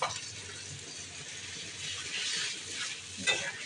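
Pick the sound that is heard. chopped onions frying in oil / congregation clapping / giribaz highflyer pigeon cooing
chopped onions frying in oil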